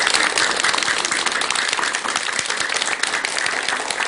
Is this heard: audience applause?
yes